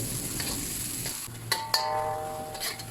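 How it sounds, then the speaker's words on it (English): Sliced onions frying in oil in a kadhai over a high flame, a continuous close sizzle with a couple of sharp clinks of a utensil against the pan partway through. "We are going to fry these sliced onions until they turn golden."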